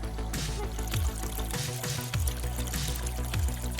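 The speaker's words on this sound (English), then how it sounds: "This little stream here is hiding right underneath the boardwalk" A small stream trickles and pours beneath a wooden boardwalk along a hiking path, a close, continuous bubbling and gurgling of running water with no voices.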